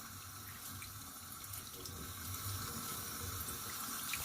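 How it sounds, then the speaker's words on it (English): A sink tap runs steadily while a face is rinsed after a wet shave, a close, even hiss of flowing water with slight variation and no speech. "just kind of use the water in the sink and put your hands in it and rinse your face off"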